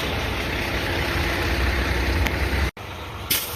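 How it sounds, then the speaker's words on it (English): A truck engine rumbles close by at night near road works, a steady broadband drone with a deep low-end throb, briefly cutting out near the end before a sharp burst returns. "Yeah, trying to get away from that truck. It was hard to talk with all the noise around here."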